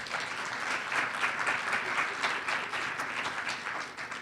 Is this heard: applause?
yes